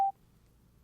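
Cardo Packtalk Pro motorcycle communicator giving a single short electronic beep as the phone's voice assistant activates, a clean brief tone followed by near silence.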